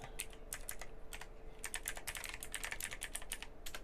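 Fingers type quickly on a computer keyboard during a World of Warcraft session, a close run of crisp key clicks in uneven bursts with a short pause early on and no speech.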